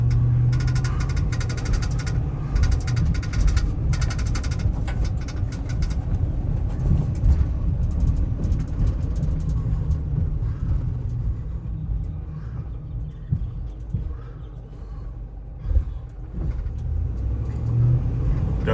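A 2016 Ram 5500 bucket truck with an Altec boom drives along a road, heard as a continuous low engine and road rumble from inside the cab, with a faint rattle from the steel console.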